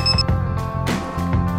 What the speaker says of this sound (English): The LED flashes red and an alarm sounds.